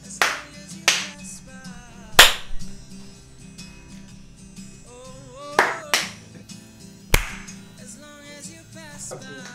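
A handful of separate, crisp hand claps ring out at irregular intervals over soft background music with sustained tones.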